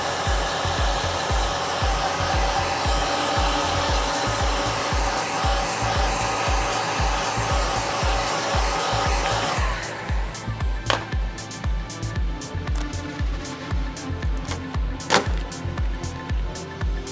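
Heat gun blowing hot air over cast vinyl wrap film, a loud steady whooshing blast that cuts off partway, then quieter scattered taps and handling noises with rhythmic rubbing.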